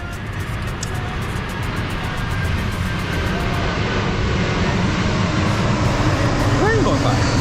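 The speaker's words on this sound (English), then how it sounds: "plane going by." A fixed-wing airplane passes overhead near a lake with a Sea-Doo GTX 300 Limited watercraft, producing a steady, loud broadband drone that swells slightly as it nears.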